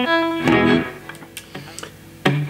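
Electric guitar strings on a Stagg Telecaster plucked and left ringing, single notes and a chord checked one at a time with pauses between, through a Fender Deluxe VM tube amp.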